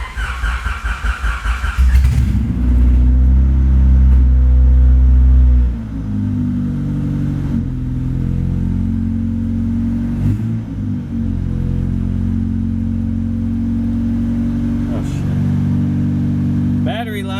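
Honda Civic EK hatch with a swapped B16A engine cranks and fires up, then settles into a loud close idle with a few revs; people talk briefly before it starts.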